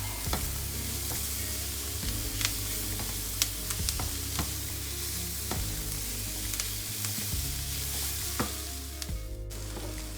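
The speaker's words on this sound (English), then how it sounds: "While the onions are sauteing up with the spices" Onions sauté with spices and garam masala in a pan, a constant close sizzle with a low hum underneath and intermittent sharp clicks of a spoon stirring against the pan.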